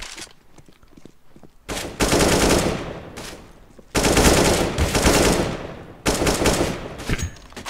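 AK rifle fire in CS:GO, three loud sustained automatic bursts of about two seconds each, separated by short quieter gaps with faint footsteps and movement, close and dominant.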